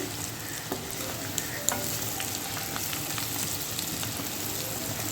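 Onions frying in a pan with a dense, continuous sizzle and crackle, plus scattered stirring clicks, close and steady throughout.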